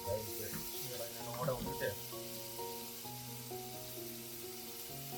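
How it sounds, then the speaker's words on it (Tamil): Chopped onion sizzles in a hot pan of oil for a chicken rasam-style kuzhambu, a steady hissing fry running throughout beneath a voice and tonal background sounds. "ஆனியன் போடுறேன்"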